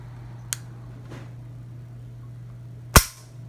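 Umarex Beretta M9A3 CO2 airgun pistol firing: a faint click near the start, then one sharp, loud crack late in the clip that fades quickly, over a steady low electrical hum.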